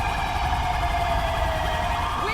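Michigan State Police car siren in GTA 5 LSPDFR, a loud continuous wailing tone sweeping slowly and close, running steadily and alone throughout.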